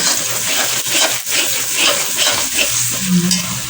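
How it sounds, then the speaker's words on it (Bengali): Curry stirred and fried in a pan gives a steady, loud sizzle broken by repeated scraping strokes of a spoon against the pan, close up with no voices. "এই ফাঁকা আমি রান্নাটা করবো তাকে ভালো করে কষবো"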